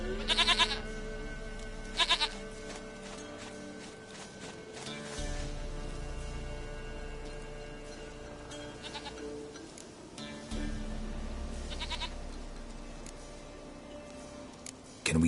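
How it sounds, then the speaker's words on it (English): A goat in The Witcher 3 bleats in several short, loud calls spaced a few seconds apart, over a steady game ambience of music and background hum. "Goat of mine, dearest, sweetest goat."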